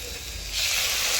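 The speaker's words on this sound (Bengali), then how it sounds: "এবার আমি জল দিয়ে দেবো।" Water is poured into a hot pan of fried soybean and potato, and the steady sizzle swells into a louder, brighter hissing rush of steam halfway through.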